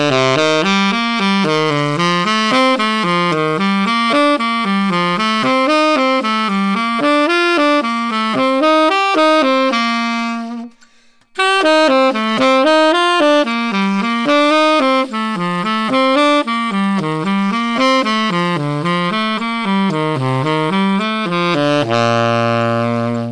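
Saxophone running seventh-chord arpeggios up through each degree of the major scale, a steady stream of quick notes climbing and falling, with one brief break in the middle and no voice.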